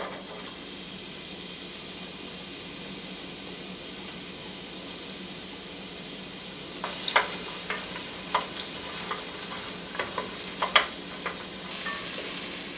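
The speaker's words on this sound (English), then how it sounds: "on medium heat we'll saute some of the onions, just about until they're translucent" Onions sautéing in a pot over medium heat for a butternut squash soup: a steady low sizzle runs throughout, joined in the second half by scattered clicks and scrapes of stirring.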